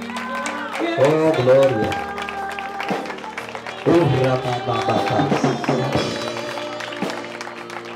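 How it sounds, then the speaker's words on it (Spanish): Worshippers at a church service clap and shout in a lively crowd, with sung or called-out voices mixed over the applause, which rises in bursts and stays loud. "Dale un aplauso a Cristo"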